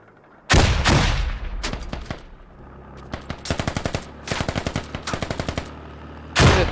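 Gunfire and grenade blasts in the military shooter game Squad: loud single booms, then bursts of rapid machine-gun fire in several volleys, with a final heavy explosion.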